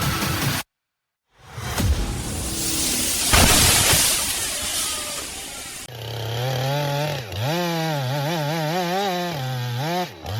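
A Stihl MS-462 chainsaw felling a large fir tree roars loudly through wood after a short silent gap, then revs and bogs with rising and falling engine pitch as the cut continues.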